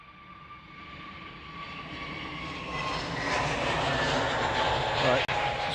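A departing aircraft at Manchester Airport builds from a low engine rumble into a louder, rising roar with a whining tone, fairly distant, while a person talks faintly over it.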